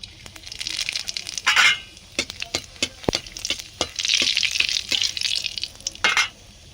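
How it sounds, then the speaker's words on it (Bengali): Whole dried chillies crackle and sizzle in hot mustard oil in a pan, with a steady frying hiss broken by sharp pops and spatters, close and fairly loud with no voices. "এর মধ্যে সরষে তেল দিয়ে দিচ্ছি ওর মধ্যে গোটা শুকনো লঙ্কা দিয়ে দেবো"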